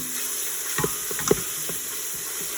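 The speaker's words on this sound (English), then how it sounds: "the temperature is hot enough in the pot to sizzle and bubble the oil" Garlic sizzling in hot oil in an Instant Pot, a steady faint crackle with a few sharp pops and taps of a utensil, no talk.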